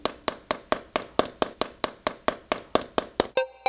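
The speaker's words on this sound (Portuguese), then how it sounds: "Um pica-pau das bolotas, usando seu bico para fazer furos no galho da árvore" Sharp, evenly spaced tapping of an acorn woodpecker's bill drilling holes into a tree branch, about fourteen crisp knocks in steady rhythm, close and fairly loud, with no talking.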